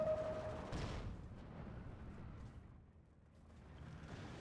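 A cannon fires in the WWII strategy game Steel Division 2, giving a single deep boom early on that rolls off into a fading rumble, with no voices over it.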